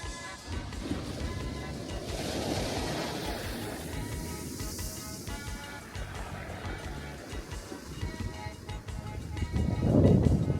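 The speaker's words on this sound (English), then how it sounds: "That's the sound of the water rolling back from the stones." Sea water washing and rolling back over stones on a shore at a cruise port stop, a continuous crackling surf wash with a louder surge at the end, no talk.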